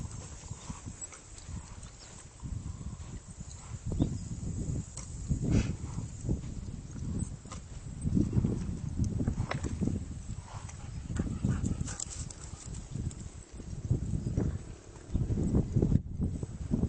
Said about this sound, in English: see this horse is learning how to go on the circle